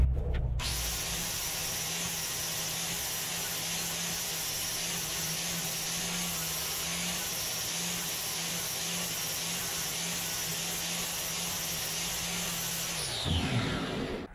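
A power tool cleans rubber residue and paint off a steel spacer, giving a steady, unbroken whirring grind for about thirteen seconds before it winds down and stops.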